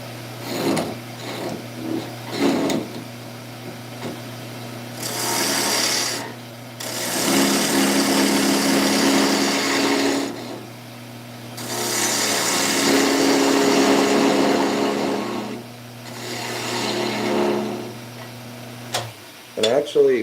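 A wood lathe spins a wet wooden top with a steady motor hum. Repeated rough rasping bursts of cutting swell and fade over it, and a voice is heard at times between them.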